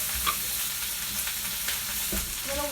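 Food fries in warm oil over medium heat in a pan with garlic, a steady crackling sizzle with occasional stirring scrapes, close and moderately loud, with no talking.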